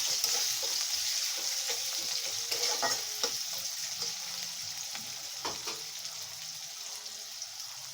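Onion frying in hot oil hisses steadily while a spatula stirs it with soft, irregular scrapes. The sound is near and fairly quiet, with no voices.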